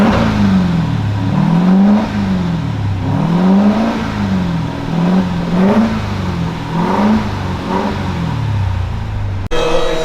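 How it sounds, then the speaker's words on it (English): 2023 Dodge Durango Hellcat with a muffler delete at a custom muffler shop, its V8 engine revved repeatedly in a rising and falling rhythm, loud and close, with no speech over it. "You want to rev it up?"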